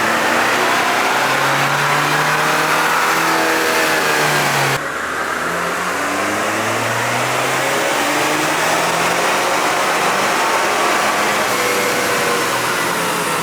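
A Toyota Tacoma on a dyno after a firmware tune runs loud and close, its engine climbing steadily through the revs in a long sustained pull, briefly dropping with a shift, then rising again, with no talking over it.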